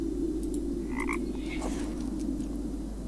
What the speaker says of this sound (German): Schon wieder Frosch